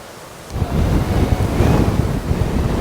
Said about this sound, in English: First real gale of the year.